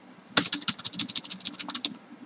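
Code is typed on a computer keyboard in quick, close, crisp keystrokes, a rapid irregular run of clicks that starts abruptly and tapers off after about two seconds, with no talking.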